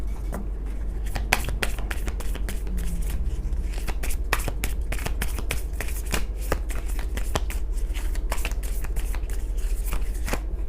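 Tarot cards are shuffled by hand, a rapid series of crisp, close riffling snaps and flicks repeating irregularly throughout.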